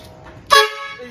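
A car horn rigged at a house for a prank gives one loud honk partway through, then its note holds on steadily and slowly fades, with no talk over it.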